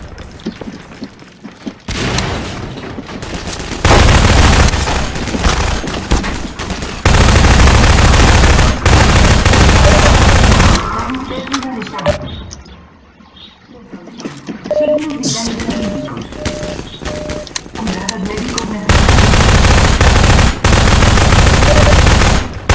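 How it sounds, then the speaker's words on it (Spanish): Gunfire in Half-Life 2: Lost Coast comes as loud bursts of repeated shots and booms that cut in and out, with a short quieter stretch in the middle; someone speaks Spanish over parts of it. "Estoy disparando pero no sé de dónde."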